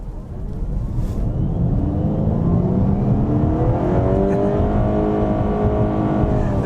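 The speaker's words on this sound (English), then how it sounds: "There's that engine again." A 2020 Honda CR-V Hybrid engine hums and whirs continuously at close range, its pitch rising and shifting as it runs, with no voices.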